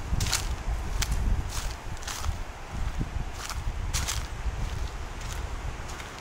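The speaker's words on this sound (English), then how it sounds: "fairly windy today." Wind gusting at a beach at Yorkeys Knob, a low steady roar and rumble buffeting the microphone, with faint crunchy footstep-like crackles recurring.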